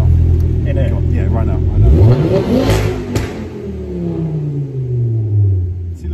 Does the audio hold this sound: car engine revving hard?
yes